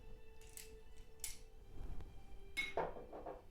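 A spoon faintly clinking against a container while measuring Pompeia into a bath mixture: a few quiet, scattered metallic ticks in an otherwise hushed room.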